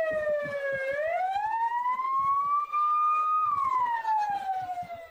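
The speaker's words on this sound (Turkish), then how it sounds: "Siren sesleri duyuldu." A loud wailing siren rises and falls slowly and continuously during a school fire drill, close and dominant, with faint clattering and rustling underneath.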